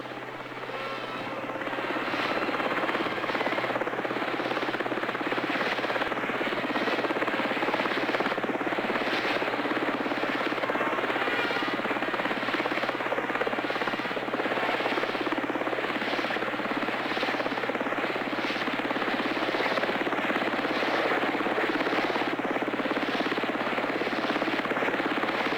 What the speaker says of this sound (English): In my case, they sent a chopper.